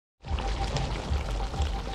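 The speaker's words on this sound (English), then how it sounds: "Now we're gonna go ahead and add some water in to make the gravy." Water pours steadily into a cooking pot to make gravy for Florida hassa simmering in coconut milk and seasoning, a close, continuous splashing stream that starts abruptly and runs without pause.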